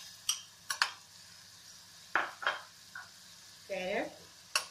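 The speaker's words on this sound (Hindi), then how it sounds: "ये देखिए हमारा मसाला घी छोड़ने लग गया है। अब इसमें वेजिटेबल डालेंगे" Vegetables such as potato, carrot and peas drop into masala sizzling in ghee, giving a few sharp clinks of a spoon against the pan followed by a short burst of frying hiss, close and moderately loud.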